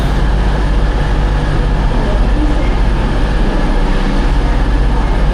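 Steady low rumble of a train at Stoke-on-Trent station, a continuous mechanical drone with no voices.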